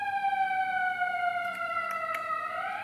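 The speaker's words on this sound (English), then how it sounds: "There's a siren going by, so I'm going to wait a second." Fire station siren wailing steadily as it goes by, loud and close, with a slowly falling then rising pitch over a few seconds and no talk.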